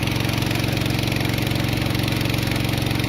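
A garden irrigation water pump motor, its pipes chewed through by rats, runs with a loud, steady mechanical drone and fast regular pulsing, close and continuous, with no talk.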